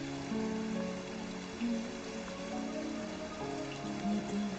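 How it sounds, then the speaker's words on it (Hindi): Steady rain falling on a surface, a soft continuous patter with occasional slightly louder drops, no voices. "लगता है बारिश थोड़ी कम हो गई है।"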